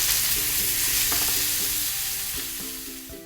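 Ribeye steak sizzles loudly in a hot pan, a close, continuous hiss with occasional scrapes and knocks from a utensil, easing slightly toward the end, with no speech.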